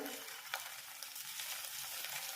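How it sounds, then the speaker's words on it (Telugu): Mutton pieces fry in hot oil, making a faint, steady sizzling hiss with a couple of small bursts as pieces settle, quiet and without speech. "ఆయిల్ కూడా వేడయ్యింది. ఒక్కొక్కటిగా ఇందులో వేసుకోవాలి."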